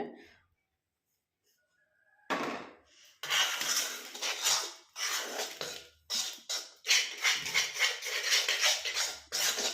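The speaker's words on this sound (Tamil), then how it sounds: "நல்லா கட்டிகள் இல்லாமல் கலந்துக்கலாம்" A thick homemade hair dye paste is stirred in a bowl, producing close, repeated scraping and tapping strokes in quick bursts after an opening stretch of near silence.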